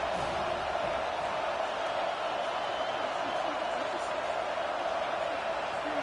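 A football stadium crowd at a Texas versus Tennessee game roars in a steady, distant wash of cheering under a commentator's voice.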